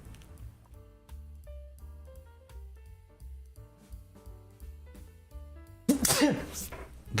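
A single sharp sneeze bursts out near the end, loud and close, after a stretch of quiet plucked musical notes.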